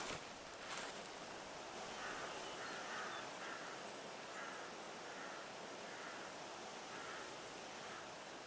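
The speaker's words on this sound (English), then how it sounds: "You can hear the crows gathered on the carcass." Crows gathered on a carcass caw repeatedly in the distance in the video game The Hunter Classic, over a steady hiss of wind and rustling, the calls spaced out in a loose rhythm.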